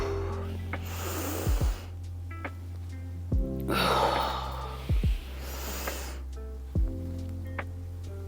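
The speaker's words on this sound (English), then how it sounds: "Inhale as you reach back. Exhale, coming forward." Deep breathing during a guided movement class, slow broad inhales and exhales rising and falling over a steady low hum, with a few soft thumps between breaths.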